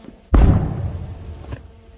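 A Korsair 50,000 firecracker explodes underground, giving one loud, deep, muffled thump that dies away over about a second, with a faint second knock near the end.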